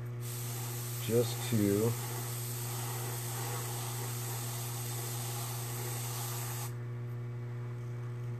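An airbrush sprays heavily reduced white paint over a lifted stencil on a bag part, a steady close hiss that runs unbroken for several seconds and then cuts off, with a brief spoken phrase near the start.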